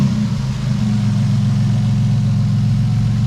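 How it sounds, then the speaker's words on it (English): A Toyota Supra engine idles steadily after starting, a loud, even low rumble with a pulsing throb that holds constant throughout, no voices. "I quickly start it up for you now. And yeah, it sounds really, really nice and healthy."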